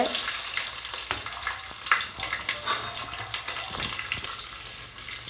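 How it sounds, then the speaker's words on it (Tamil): Fenugreek, cumin, mustard seeds, urad dal, curry leaves and garlic sizzling in hot oil for tempering, a steady close crackling hiss with small pops and stirring clicks. "ஒரு எண்ணெய் ஊற்றிக்கலாம் வெந்தயம் கொஞ்சம் கொஞ்சம் ஜீரகம் கடுகு உளுந்தும் கருவேப்பிலை பூண்டு போட்டுக்கலாம்"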